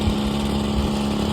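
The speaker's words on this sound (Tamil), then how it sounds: "அதுக்குள்ளே பாருங்கள் மிஷின் சவுண்டு கேட்குதா" An engine-driven machine runs steadily in a farm field, a loud, continuous drone with a constant low hum and no breaks.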